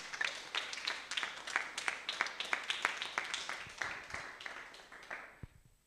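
A small audience at a national literary contest ceremony applauds the winner, distinct individual claps forming a steady patter that gradually fades and stops near the end.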